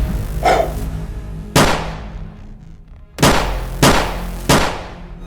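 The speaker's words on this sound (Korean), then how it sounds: "총소리." Four loud gunshots ring out, spaced unevenly, each with a sharp crack and a trailing echo.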